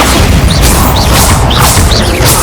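A Bombarda blasting spell explodes in Hogwarts Legacy, a loud, continuous booming crash with a dense roar and repeated impact bursts.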